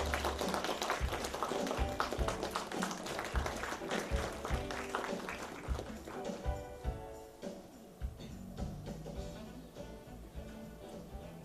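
Audience applause at a Korean literary café stage event as a professor is welcomed to give a lecture, steady clapping from a crowd at moderate distance with faint voices mixed in.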